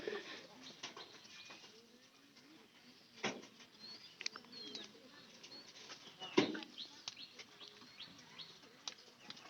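Pigeons fed on sesame at a house rooftop flap their wings in a few sudden bursts, with soft cooing and faint chirps in between, fairly quiet overall.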